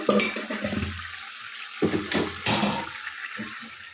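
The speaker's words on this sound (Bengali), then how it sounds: "এখানে আমি অল্প একটু পরিমাণে জল দিয়ে দিচ্ছি" A little water is poured into a hot cooking pan while making mustard paneer, splashing and spluttering in short bursts against the metal, close and moderately loud, with brief gaps between pours.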